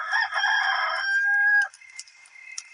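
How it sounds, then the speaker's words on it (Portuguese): A rooster crows once, loud and close, a long strained call that holds then breaks off, followed by faint clicks and quiet after. "E Pedro negou outra vez e logo o galo cantou."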